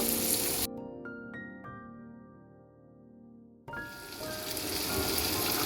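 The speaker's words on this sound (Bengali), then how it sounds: "এদিকে ভাজা হচ্ছে" Food fries in a pan during home cooking of a Bengali-style chicken curry, giving a crisp sizzling hiss at the start and a louder one at the end. A quieter stretch between them holds a few light metallic clinks.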